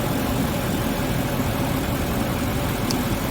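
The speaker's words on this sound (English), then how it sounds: "There's your engine. It always sits a little bit cockeyed." A Mercedes G-Wagon engine idles in a steady, even drone with low rumble and constant hiss, close to the microphone, without voices.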